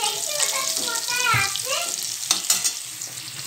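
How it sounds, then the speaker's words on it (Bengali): Potatoes with turmeric fry and sizzle steadily in a wok, with a continuous close hiss and occasional stirring scrapes, no voices heard. "আর এই যে ও আলুটা কড়াইয়ের মধ্যে দিয়ে দিয়েছে, একটু এর মধ্যে হলুদ দিয়ে তারপরে ও আলুটা দিয়েছে।"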